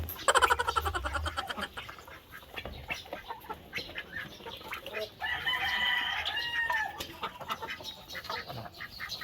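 Darag native chickens clucking near a brooding pen, including a mother hen, with repeated close clucks and squawks over a busy farmyard background, some calls overlapping and others farther away.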